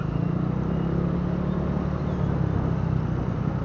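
From a Yamaha NMAX scooter moving through slow traffic, a constant low engine hum blends with surrounding road noise, even and close for a few seconds without any talking.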